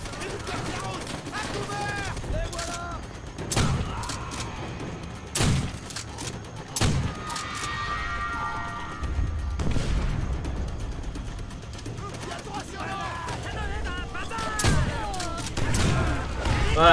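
Gunfire in the video game Call of Duty: World at War: scattered sharp shots and heavy thumps ring out amid battle noise, with someone talking over much of it.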